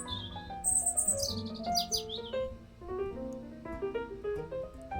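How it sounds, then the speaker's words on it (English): A bright, repeated electronic chirping alert plays as a stream notification during a live crochet session making coasters, layered over a steady melodic tone that continues underneath, with no one talking. "I heard the chirping sound"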